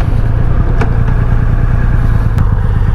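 A 2023 Triumph Rocket 3 R motorcycle accelerates, its engine a loud, steady low rumble heard close up with a constant droning roar and faint clatter.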